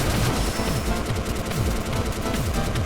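Blaster Master Zero flamethrower burning through spikes in a video game, a steady loud roaring crackle with rapid stuttering bursts throughout, no talk.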